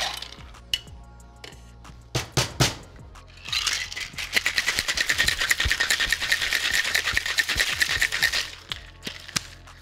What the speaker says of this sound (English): Now all we do is add some ice and shake it up.